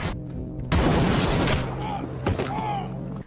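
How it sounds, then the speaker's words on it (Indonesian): Sniper rifle shots ring out in a film action scene, a heavy blast followed by a rolling, reverberant rumble and another sharp crack later, loud and dense. "Tentu saja Brandon juga dibuat kaget dengan suara tembakan tersebut."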